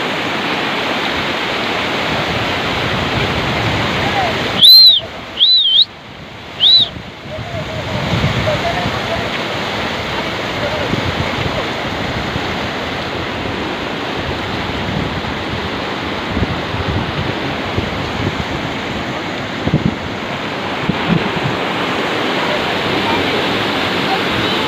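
A large volume of water released from Yedgaon dam into the Kukadi river after days of heavy rain gives a loud, continuous roar of rushing water. A few sharp high chirps break in briefly near the start.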